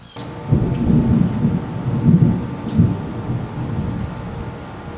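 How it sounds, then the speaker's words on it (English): Deep thunder rolls and rumbles through a thunderstorm outdoors in the evening, loud and sustained with swelling low peaks over a steady wash of rain, and no voices. "it's definitely about to thunderstorm."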